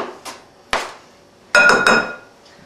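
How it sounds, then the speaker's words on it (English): A utensil stirring chopped shrimp into cheese and cream cheese in a bowl, giving a handful of sharp, close clinks and knocks spaced unevenly, the last two landing close together. "We're going to go ahead and mix that shrimp in with the cheese and the cream cheese."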